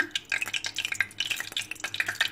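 Sausages are stirred and dipped into thick fritter batter, giving wet, sticky squelching and light clinking in quick irregular bursts, close by with no talking.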